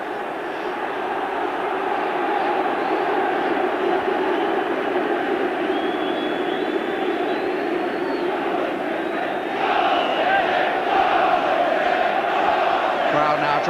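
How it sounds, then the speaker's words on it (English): A large football crowd chants and roars at a 1993 FA Cup quarter-final between Manchester City and Tottenham Hotspur, a dense, continuous wall of voices that swells louder near the end. "Crowd now trying to lift the home side"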